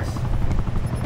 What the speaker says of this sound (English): I hear a freaking chopper again.